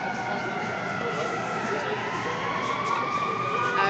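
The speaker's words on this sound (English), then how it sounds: "There are plenty of sirens, so I'm getting close. Sirens everywhere." Emergency vehicle sirens wail steadily on a Chicago street during a protest rally, with continuous traffic and crowd noise mixed in throughout.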